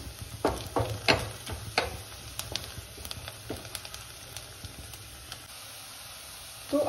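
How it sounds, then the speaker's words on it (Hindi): Chopped onions fry in a pan over a medium flame, making a soft, steady sizzle and hiss with scattered small crackles and pops, close by and without speech. "तो प्याज ऐड करने के बाद इसको अच्छे से हम लोग भून लेंगे।"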